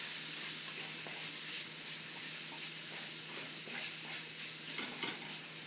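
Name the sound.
stirring taco-seasoned filling in a sizzling pan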